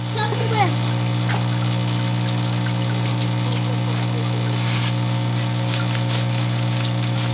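A shop parts washer runs while gunk is cleaned off Ford Toploader transmission parts. A constant low pump hum carries pouring, trickling solvent and light clinks, with faint voices in the background.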